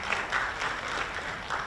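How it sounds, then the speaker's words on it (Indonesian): Applause for a speaker at an Atma Jaya linguistics conference: a steady wash of many hands clapping in a hall, moderately loud and continuous, with no voices over it. "Kita berikan tepuk tangan"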